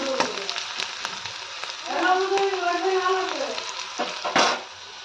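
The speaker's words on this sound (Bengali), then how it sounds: "ভালো করে ভাজবো লাল লাল করে" Chicken pieces fry in a pan with a steady, loud sizzle as they are stirred, while someone talks briefly over the cooking sound.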